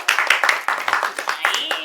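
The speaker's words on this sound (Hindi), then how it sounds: "रेखा के लिए एक बार तालियां बजाई जाए" Small group clapping for a participant after a tongue-twister attempt, a quick, uneven run of close hand claps with voices mixed in.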